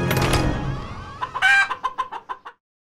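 Chicken sound effect from an accessible iOS face-choosing game: a loud, close hen cluck and squawk, followed by a rapid run of short, staccato clucks that stop abruptly.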